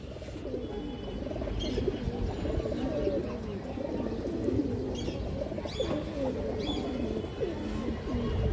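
Several homing pigeons coo continuously in low, throaty rolling calls, close and overlapping, with faint chirps in the background.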